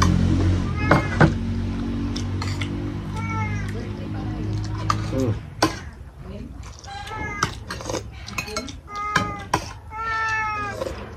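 A cat meows repeatedly, several short plaintive cries spaced apart, close by over a steady low hum and some background voices.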